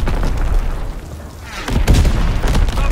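Azon bomb explosion in the game Call of Duty WW2: a low rumbling lull breaks into a heavy, booming blast with crackling debris and gunfire, loud and close, with no talk.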